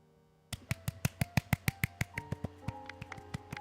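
A rapid series of sharp claps rings out, about fifteen crisp hits in a quick, slightly uneven rhythm, sounding synthetic and game-like: applause in the video game Genshin Impact.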